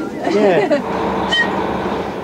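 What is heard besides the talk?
London Underground Jubilee Line train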